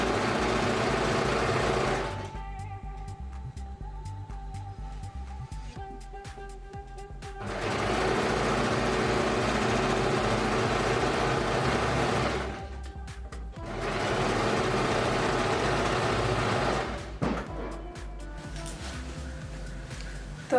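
A domestic sewing machine stitches fabric in bursts, its rapid mechanical chatter running for several seconds, stopping, then starting again, close and clear with quiet gaps between runs.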